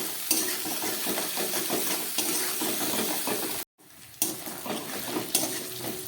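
Ground spice paste stirred and fried in oil for a thin bhetki fish curry, a steady close sizzle with scraping spoon strokes, briefly cut off by a pause before the frying resumes.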